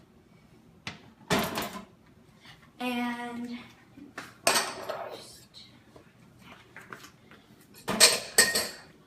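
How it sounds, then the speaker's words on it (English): Dishes and cutlery cleared into a kitchen sink, with scattered clinks and clatters of plates and utensils set down in bursts and a brief voice between them. "I'm just going to clear my dishes into the sink."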